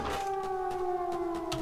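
A civil defense siren in the zombie survival game Zompiercer wails steadily, holding a sustained tone throughout with no voices.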